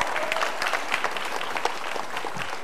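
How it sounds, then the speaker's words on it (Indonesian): An audience applauds steadily for Indonesian PDI Perjuangan politician Budiman Sujatmiko on a televised talk show stage, a dense continuous wash of many hands clapping at moderate volume. "Silakan Mas Budiman, kita berikan tepuk tangan."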